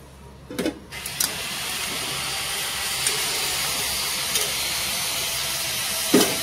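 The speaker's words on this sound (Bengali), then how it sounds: "এখন পরিমাণ মতন জল দিয়ে দিব" Water poured into a hot pan for a Bengali fish-head muri ghonto, giving a steady, loud hiss of steam and sizzle that holds for the whole stretch, with a few knocks at the start and end.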